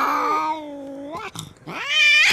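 A cat meows in two long, drawn-out, wavering cries separated by a short break, loud and close, with no talking.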